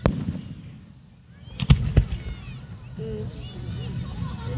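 Fireworks bursting at an outdoor show, with a quiet stretch then two sharp loud bangs close together, followed by a steady rumbling crackle and faint voices in the background.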